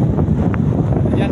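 Strong wind buffets the microphone at a seashore where people fish with push nets, a steady loud roar with low rumbling gusts and surf noise throughout, no distinct pauses.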